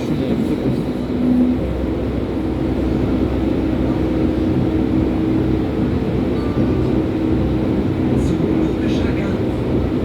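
Berlin U-Bahn U9 train running between stations, a steady loud rumble and rolling roar of wheels in the tunnel, continuous throughout with a faint squeal now and then.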